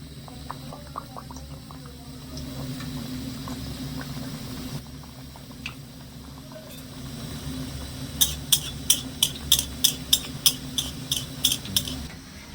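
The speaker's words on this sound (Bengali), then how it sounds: "মিডিয়াম গরম তেলে কিন্তু পাপড়িগুলো ছাড়তে হবে" Papri dough crisps fry in medium-hot oil, bubbling and crackling steadily up close, then a series of sharp metallic taps around the pan near the end, with no talk.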